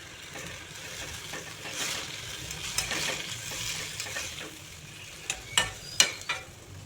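Poppy seed paste frying with ridge gourd and potato in a pan, giving a steady low sizzle broken by stirring scrapes, with sharper clatters of the utensil toward the end.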